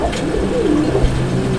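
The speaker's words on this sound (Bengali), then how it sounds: "ব্ল্যাক অ্যান্ড হোয়াইট জার্মান শিল কবুতর একটি জোড়া" Black-and-white German shield pigeons coo in a pair, soft rolling low calls repeating close by over a steady background, with no talk.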